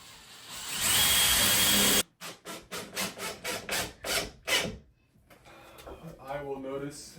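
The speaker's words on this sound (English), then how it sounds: "And drill a little pilot hole." A drill bores a small pilot hole in a straight-edged stair railing piece, a steady close whirring for about two seconds, then a run of short rhythmic bursts, followed by quieter handling noise.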